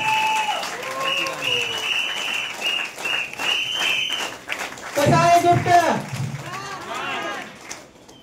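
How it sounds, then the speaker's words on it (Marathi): Loud audience applause at a Vasudev performance, a dense sustained clapping wash mixed with crowd voices and shouts, with a brief louder burst of cheering partway through. "टाळ्या झाल्या पाहिजे जोरदार."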